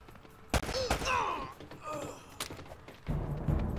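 Gunfire in Uncharted: Drake's Fortune, with a few sharp shots and thuds mixed in with voiced game dialogue and grunts, ending in a denser burst of shooting.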